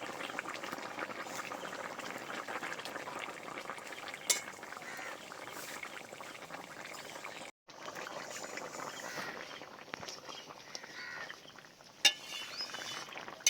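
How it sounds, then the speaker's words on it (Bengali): Fish curry made with Sundarbans pomfret, green tomato and potato bubbling in a pan, a steady simmering hiss with faint stirring and a couple of sharp utensil clinks near the end, close and moderately loud. "মাছটা দিয়ে বেশ সুন্দর করে ফুটিয়ে নিয়েছি"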